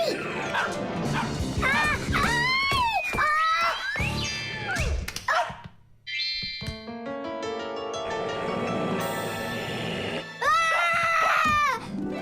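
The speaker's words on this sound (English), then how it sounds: "Hey, Tom Thomas, please tell your rabbits that they can stop barking so loudly." A loud, busy cartoon scene packed with yappy barks, yips and squeals from barking cartoon rabbits, with music and sound effects sweeping underneath.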